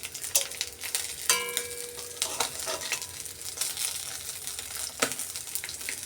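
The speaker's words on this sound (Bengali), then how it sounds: "তেলটা তেঁতে গেছিলো তো আমি এখানে মাছটা ভাজতে তুলে দিয়েছি" River morla fish frying in hot oil in a pan on a gas stove, giving a steady close sizzle with crackling pops and a few sharp spatters throughout, and no talk.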